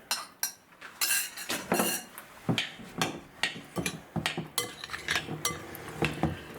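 Savoury muffin batter beaten in a bowl after an egg goes in: a utensil knocks and scrapes against the bowl in quick, uneven clinks, loud and close with no voices.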